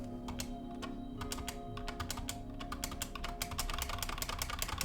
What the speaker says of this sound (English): even though I'm typing in 52